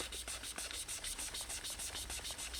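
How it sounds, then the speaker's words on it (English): Close, quiet rubbing on freshly applied gold pinstriping paint that has not fully cured, heard as rhythmic back-and-forth scrubbing strokes, roughly four per second, with no talk. "If I keep rubbing on the gold,"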